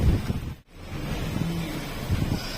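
Strong wind blows in a steady, roaring rush with low buffeting rumble, broken by one brief momentary dropout, then continuing loud and unbroken.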